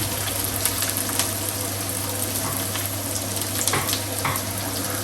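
Onions frying in oil for a Tamil dried-fish karuvattu kuzhambu, a continuous even sizzle with a low steady hum underneath and occasional faint clicks, no voices.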